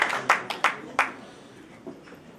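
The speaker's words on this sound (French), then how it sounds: "On peut applaudir la remise des prix" Audience at the Malijama Awards 2018 ceremony applauding a prize presentation: a few sharp, scattered claps ring out close together early on, then thin out to a lone faint clap amid quiet room noise.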